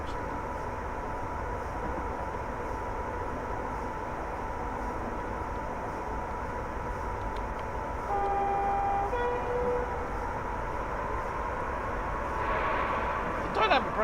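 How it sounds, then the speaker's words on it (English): The dynamic brake of a Class 87 electric locomotive in Train Sim World, running the West Coast line over Shap, gives a steady, broad rumbling roar with a few brief tones partway through. "The dynamic brake sounds pretty good."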